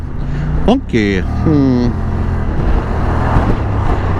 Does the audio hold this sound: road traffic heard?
yes